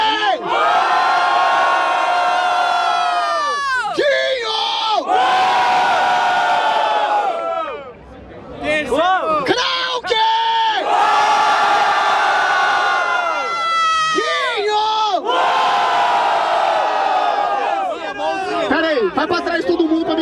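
A large crowd at a freestyle rap battle in Barueri, Brazil cheers and shouts loudly in repeated swells, with whoops and energetic yelling, briefly dipping before surging again.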